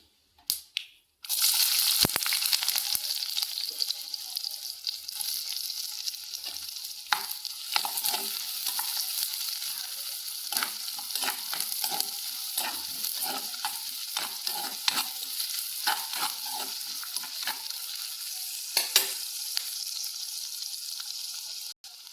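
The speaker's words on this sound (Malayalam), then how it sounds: "കടുക് പൊട്ടി മുളകിട്ട് സവാള ഇട്ട് കൊടുക്കാം" Onions drop into hot oil with popped mustard seeds and chilies for a carrot thoran, then a steady crackling sizzle runs throughout, broken by scattered sharp pops and occasional stirring scrapes, close and continuous with no talk.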